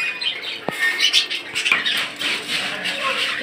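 Budgerigars, including a red-eyed lutino female, give scattered squawks and chirps close by, with a couple of sharp calls and some wing flutter among other cage birds.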